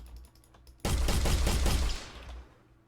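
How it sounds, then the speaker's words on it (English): Gunfire from a weapon in an Unreal Engine 5 game: a loud, dense burst of rapid shots lasting about a second, standing alone over a low background hum before fading away. "pick up the weapon, shoot"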